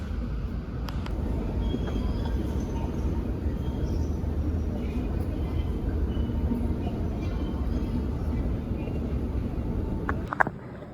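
Steady, loud rumble and rattle fill the inside of a moving São Paulo metro train for the whole stretch, with a few brief clanks and squeals near the end.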